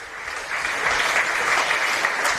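Crowd applause at an under-18 AFL Academy football match between Sydney Swans and AFL Sydney, acknowledging an injured player. A steady, sustained round of clapping from a moderately distant crowd, swelling slightly after the start and holding level.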